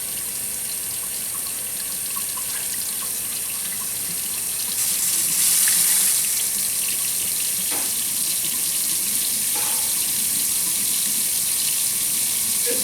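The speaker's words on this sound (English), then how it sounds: "I'm gonna turn the hot water side on now." An old plastic kitchen sink faucet runs hot water at full blast, a steady close rushing hiss that swells briefly partway through and then holds even to the end.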